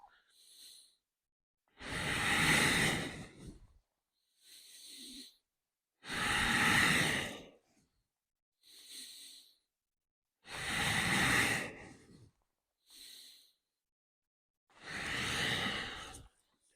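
Deep breaths in and out during a daily health exercise routine: about seven close, broad whooshing breaths, longer ones alternating with shorter ones, with no talking.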